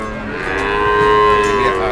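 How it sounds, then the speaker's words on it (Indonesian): Breeding heifer calves moo at the Wirosari cattle market in Purwodadi, a single loud, sustained, close low call lasting the whole two seconds, rising slightly in the middle, with no talk over it. "Ini ada sapi."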